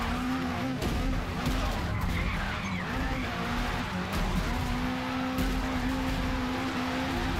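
In a wreck-racing video game, a race car tumbles and skids at Sunset Peninsula, with a continuous loud engine roar, grinding tire scrub and a few sharp impact knocks throughout.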